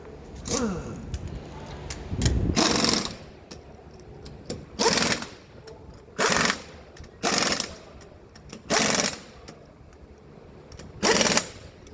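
Loud bursts from an impact wrench fitting a 20-inch tire onto a Ford F-150 at a Walmart service bay, seven or eight sharp rattling blasts of about half a second each, separated by short pauses.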